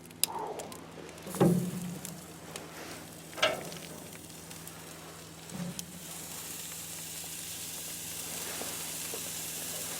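Steaks sizzling on a grill in an old barn, a soft steady frying hiss punctuated by a few clunks and scrapes of handling, close but fairly quiet, without talking.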